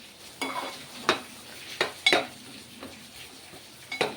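Mutton curry with tomato cooks in a pan with a faint sizzle. A spoon stirs and scrapes against the pan in several separate, close clinks and swishes.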